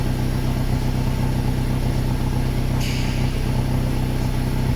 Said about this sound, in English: start accelerating slowly.